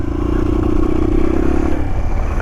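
A 125cc motorcycle engine runs loud and close with a rough, uneven drone, rattling and clattering under a steady low hum that fades slightly near the end.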